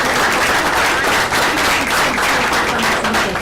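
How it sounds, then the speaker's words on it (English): Loud, close applause at a community school board of trustees meeting, many hands clapping in a thick continuous burst that stays strong from start to finish, with no one speaking. "But another round of applause."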